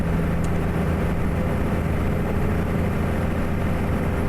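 A Cummins ISX CM870 diesel engine in a Kenworth K100 cab-over truck drones in a truck-driving simulator, a steady low rumble heard muffled from inside the cab, with no talk.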